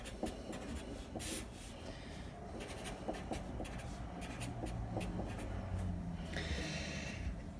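Pen or pencil writing math on paper, a run of small scratchy strokes and taps at close range, fairly quiet, with a faint breath or sniff and no speech.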